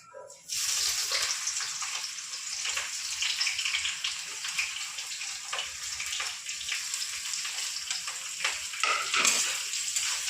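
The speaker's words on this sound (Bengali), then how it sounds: "পেঁয়াজটা দিয়ে এবার আমি দশ পনেরো মিনিট নেড়ে চেড়ে নেবো তেলের মধ্যে" Chopped onion frying in hot oil after dried red chillies and whole garam masala, a steady loud hissing sizzle that runs almost unbroken from start to finish, close by.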